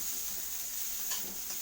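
Okra fries in a wok after turmeric is added, a soft, continuous sizzle with faint stirring scrapes, quiet and close, with no talking.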